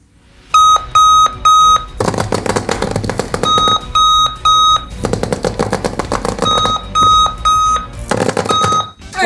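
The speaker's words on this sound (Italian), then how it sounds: "questa sveglia militare affronta la sveglia in un modo diverso rispetto alle altre. Cioè fa un gran casino e ti sveglia." A military-style alarm clock sounding loud, piercing beeps in rapid bursts, alternating with heavy rattling, clattering stretches; harsh and close, stopping and restarting several times, with no talking.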